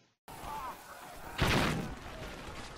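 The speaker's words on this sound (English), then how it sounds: "Alright, that was an explosion." A single dull, booming grenade blast goes off in a World War I trench scene in the video game Valiant Hearts: The Great War. It rises from a steady background rumble and fades quickly.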